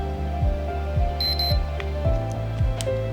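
A Walta Elite Hawk 151 earbuds charging case plays its opening sound, a short electronic beep tone heard clearly over a steady background hum of repeating low pulses.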